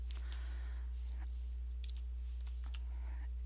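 A few light keystrokes tap out a number on a computer keyboard, quiet and close over a steady low hum, with no talking.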